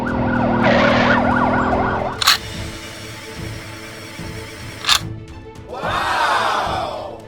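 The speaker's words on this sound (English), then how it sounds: "Help, we need an ambulance." An ambulance siren wails in a rapid warbling pattern, then gives way to traffic rumble with two sharp bursts, before a rising and falling siren sweep returns, loud and close.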